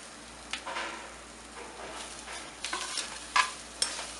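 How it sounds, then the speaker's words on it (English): Capsicum, carrots, beans and onion sauté in a pan, a soft sizzle under intermittent scraping stirs and a few sharp utensil clinks, close and fairly quiet. "After we saute the carrots, beans and onion, we'll be adding capsicum to it."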